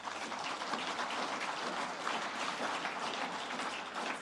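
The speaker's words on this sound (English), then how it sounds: "Round of applause for Oliver" An audience at an innovation awards evening applauds presenter Oliver McDermott as he comes to the stage, giving a steady, dense round of clapping throughout.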